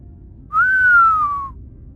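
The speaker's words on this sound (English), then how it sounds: "He let out a low whistle." A single sustained whistle, clear and close, holding one pitch with a slight downward glide for about a second against a quiet background.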